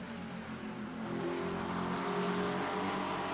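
Porsche and McLaren GT3 race cars battle in a GT3 Open racing game. Engines whine and rev close by, and the sound swells louder after the first second into a sustained, layered mechanical howl.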